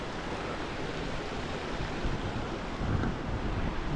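A steady, broadband rush of a flowing stream in Manali fills the scene, constant and fairly close, mixed with some wind noise and no voices.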